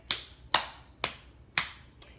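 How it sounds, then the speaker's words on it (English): Four sharp hand claps at a steady, unhurried pace, close and crisp, with a faint fifth tap at the end in an otherwise quiet room. "Now I will take sound of clapping."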